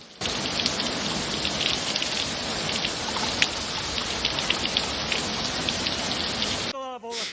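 Heavy rain pours steadily during Storm Claudia in Huelva province, Spain, a dense, loud, continuous hiss of drops on surfaces that runs without a break, cutting out near the end.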